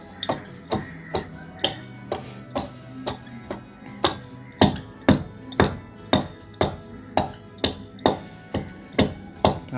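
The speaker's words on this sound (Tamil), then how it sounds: "இப்போது இதை உடைச்சிடலாம்" A hammer strikes chunks of rock phosphate fertilizer to crush them into powder, giving a steady series of about twenty sharp, close taps, each with a brief ringing clink, alone without talk.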